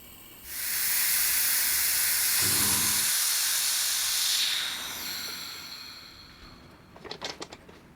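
Compressed air rushes into a pressure pot curing a resin-filled woodturning blank packed with loofahs, a loud steady hiss that starts abruptly, holds for several seconds, tapers off, and ends with a few metallic clicks.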